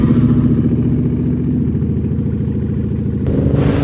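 Motorcycle engine running close by, a steady mid-pitched throb with clattering pulses that shift slightly near the end, loud and alone without voices.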